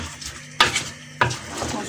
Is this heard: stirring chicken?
yes